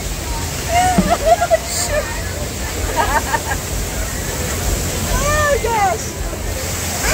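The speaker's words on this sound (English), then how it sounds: "AM Vintage stuck in a waterfall." Steady rushing, splashing water from a waterfall on an amusement park ride at Dollywood in Tennessee fills the whole clip, with people's voices talking and exclaiming over it.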